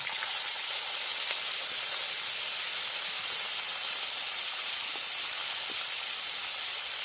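Panch phoron spices and chickpeas, added after dried red chillies, hit hot oil with a loud, continuous hiss and sizzle that stays close and steady throughout, with faint pops scattered in and no voices.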